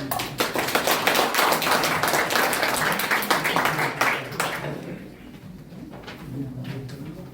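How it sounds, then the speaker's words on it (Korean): Audience at a campaign launch ceremony breaks into dense, loud applause for several seconds, then the clapping thins into scattered claps and fades. "다시 박수 한번 부탁드립니다"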